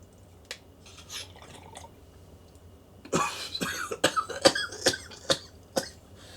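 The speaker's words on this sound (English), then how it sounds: "I think I'm about ready to die on coughing here" A man coughs hard after smoking cannabis, a few scattered coughs giving way to a rapid fit of harsh, close hacking coughs.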